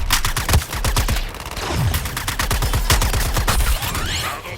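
Rapid gunfire bursts from the Suicide Squad: Kill the Justice League video game, dense automatic shots in quick rhythmic succession, loud and close, filling the whole stretch with a brief lull midway.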